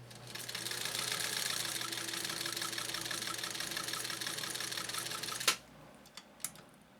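A 1.0 amp Japanese clone sewing machine stitches through 100% polyester fabric made to look like fleece, with a steady, close motor whir that runs for about five seconds, stops abruptly and leaves a few light clicks.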